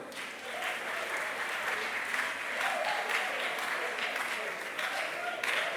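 Audience applause at a diocesan choir concert, a continuous, fairly even wash of many hands clapping at moderate distance, swelling slightly in waves for nearly six seconds.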